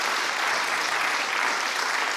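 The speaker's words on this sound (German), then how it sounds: "Ja, Sie dürfen sich ruhig auch für sich selbst klatschen." Studio audience of a German television talk show applauding, a dense, even wash of many hands clapping steadily throughout, with no voices above it.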